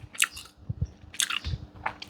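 Someone chews tough boiled luk niang (jering beans) close up, with several wet, squishy bites and chewing bursts in an irregular rhythm.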